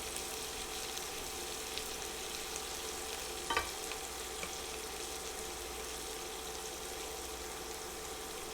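Butter and garlic frying in a pan for a stir fry, a faint, steady sizzle and crackle throughout with one brief clatter near the middle.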